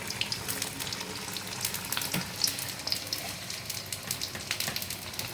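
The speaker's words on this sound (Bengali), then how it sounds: "ততক্ষণ আমি এগুলো ফ্রাই করতে দিয়ে দিলাম" Fish fritters frying in oil make a continuous crackling sizzle with scattered pops and spits, moderately close and steady throughout.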